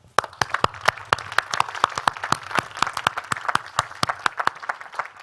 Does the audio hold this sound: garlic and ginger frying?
no